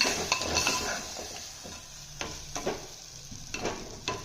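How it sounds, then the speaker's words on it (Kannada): Ground cashew paste, grated coconut and poppy seeds fry in a pan for bottle gourd kurma, with a soft steady sizzle broken by several sharp scrapes and clinks of a spoon against the pan. "ಈಗ ರುಬ್ಬಿರೋ ಗೋಡಂಬಿ, ಕಾಯಿ ತುರಿ, ಗಸಗಸೆ ಹಾಕೊಂಡು ನೀಟಾಗಿ ಫ್ರೈ ಮಾಡ್ಕೊಳ್ಳಿ."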